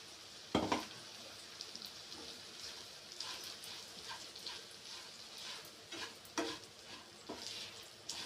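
Okra fries quietly with coarse garlic-chilli powder in a pan, a faint sizzle broken by a sharp clatter early on and several soft scrapes of stirring.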